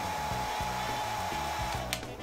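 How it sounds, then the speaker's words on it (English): A hair dryer blows steadily with a constant whirring hum and a whining motor tone, close and continuous, with a brief burst of airflow noise near the end, heating the edge of a phone skin to soften it. "grab your hairdryer and heat the edge of the skin till it gets soft"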